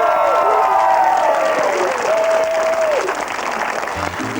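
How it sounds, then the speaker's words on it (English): A television studio audience applauds for Simon, a dense burst of clapping that slowly fades, with a sustained whistle and musical tones sliding over it. "Give us a twirl and a big round of applause for Simon!"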